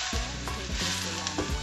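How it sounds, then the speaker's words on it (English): Chicken sizzles and crackles steadily in a frying pan while being cooked for chicken Alfredo pasta. The frying is close and continuous, with occasional louder pops. "I'm going to continue frying until they're completely fried"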